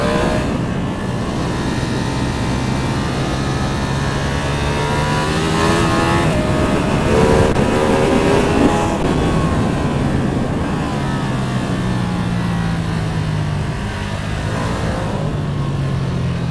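A Ducati Streetfighter V2 runs on a race track, its engine note rising and falling through gears in a loud, continuous ride lasting several seconds.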